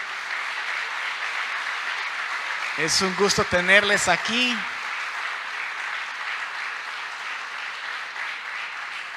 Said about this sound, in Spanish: para que les brindemos un fuerte aplauso de bienvenida